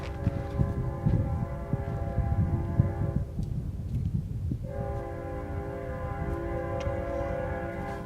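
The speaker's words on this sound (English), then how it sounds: "Oh, there's a train." Train passing nearby, sounding a long, loud horn with a pulsing low rumble of wheels on rail; the horn cuts out briefly midway, then resumes and holds to the end.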